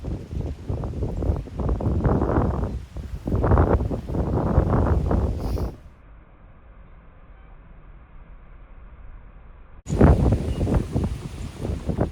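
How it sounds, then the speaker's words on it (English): A strong gale blows outside, loud roaring gusts of wind buffeting the microphone in surges, dropping to a quieter lull before another heavy blast returns. "it is blowing a gale outside"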